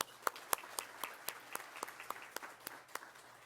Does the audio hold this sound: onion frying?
no